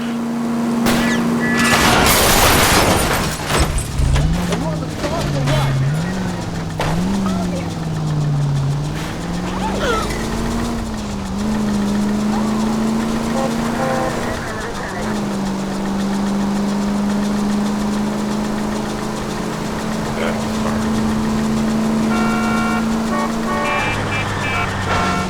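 Engines drone steadily during a car chase in L.A. Noire, a period city street pursuit, with pitch sliding up and down as the cars accelerate and swerve, plus a loud crash or burst near the start. Continuous and close throughout, with no talk.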